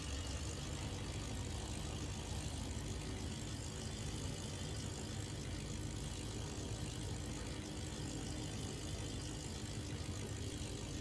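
Steady low engine drone of a Bf108 Taifun in Microsoft Flight Simulator, a continuous loud idle with no talk over it.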